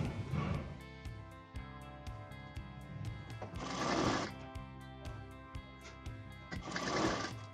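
Close, quiet sewing machine stitching a belt along the waist of a wrap skirt, with a regular ticking needle rhythm and occasional louder fabric rustles and handling.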